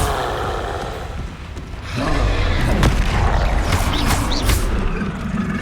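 A Confringo blast in the Hogwarts Legacy video game bursts out as a loud, deep boom with a rumbling tail, set amid a wizard duel's clashing effects and sustained low roar.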